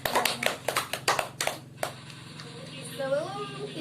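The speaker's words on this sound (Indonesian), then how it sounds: "kita berikan aplaus ya" Classroom of students applauding their peers' group presentations in a short burst of sharp, close hand claps that fades out after about two seconds, followed by a teacher's voice speaking.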